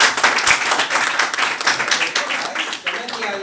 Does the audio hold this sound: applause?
yes